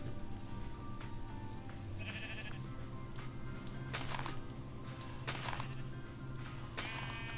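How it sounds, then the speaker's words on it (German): Sheep in the Minecraft video game bleat several times in short, separate calls, fairly faint against a steady low background hum, with no talking. "Da sind Schafe."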